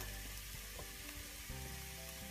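Chickpea scramble sautéing in a pan, a soft, continuous sizzle with a few faint scraping stirs, quiet and steady with no voices.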